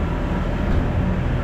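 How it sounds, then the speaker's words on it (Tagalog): A steady, broad rumble of a train rolling past nearby in downtown Chilliwack, Canada, continuous and loud with no breaks. "yung tren na dumadaan"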